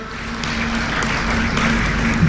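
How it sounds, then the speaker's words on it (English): Applause from the audience at an economic growth forum after a conversation between two speakers, a steady dense clapping that fills the room without a break for a couple of seconds. "a big round of applause"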